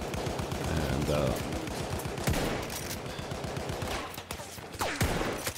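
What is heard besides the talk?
gunfire in Battlefield 1 video game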